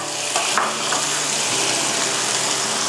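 Pork and crispy squid stir-fried in a hot pan for pink coconut-milk rice vermicelli, a loud continuous sizzle with a few scraping stirs and light clinks up close.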